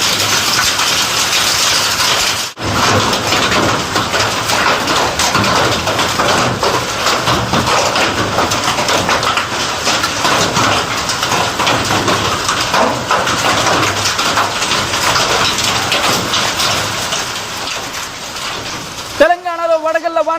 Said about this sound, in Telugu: సౌండ్స్ వింటే మీకు అర్థమైపోతుంది ఏ స్థాయిలో అక్కడ వడగళ్ల వాన దంచుకొడుతుంది అనేది.